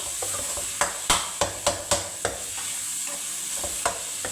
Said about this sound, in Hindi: यहाँ पर मसालों के साथ कीमे की हम 1 से 2 मिनट भुनाई करेंगे।